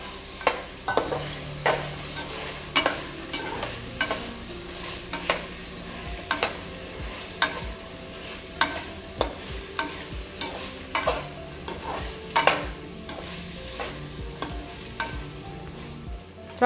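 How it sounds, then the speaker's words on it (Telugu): Green peas and diced potatoes stir-fried in a pan for khichdi, with a spatula scraping and clattering in a steady rhythm of sharp strokes over a soft continuous sizzle, close and clear with no talk. "పచ్చి బఠానీలు వేసుకోవాలి తర్వాత మనం కట్ చేసి పెట్టుకున్న ఆలూను కూడా వేసుకునేసి ఒక 5 నిమిషాలు ఫ్రై చేసుకోవాలి"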